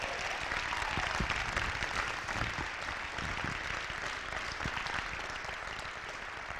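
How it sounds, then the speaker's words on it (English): A crowd at a football championship celebration applauds the state-winning Sailors team, a continuous even patter of many hands clapping, fairly distant and steady for several seconds with no talk over it. "Give them a round of applause"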